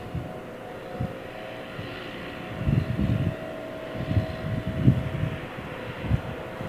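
An Iberia Airbus A320neo airliner at London Heathrow Airport rumbles at a distance, a steady low engine drone with faint fluctuations and no talk.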